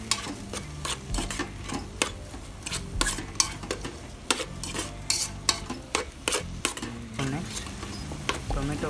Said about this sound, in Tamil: Let's mix this well.